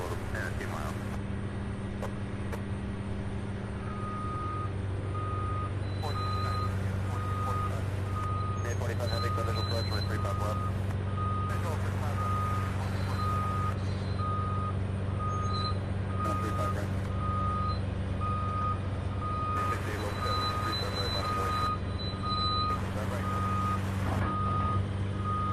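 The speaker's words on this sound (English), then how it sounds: "If you hear that beeping sound directly behind me, they're loading up some construction equipment." Steady, repeated reversing beeps sound from vehicles loading construction equipment near an airport, the pulsing tone going on and off over a constant low truck engine rumble, with distant traffic and aircraft noise behind.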